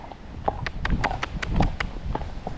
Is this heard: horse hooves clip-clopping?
yes